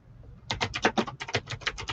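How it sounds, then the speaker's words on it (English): Rapid clicky keystrokes on a computer keyboard, a quick irregular burst of sharp taps close to the microphone after a brief quiet start. "You hear me typing? I've got super clicky keyboard."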